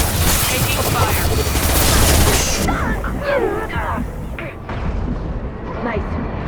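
Gunfire in the video game Mass Effect Legendary Edition, a loud dense volley of shots that breaks off partway through, followed by spoken voices and softer game sounds.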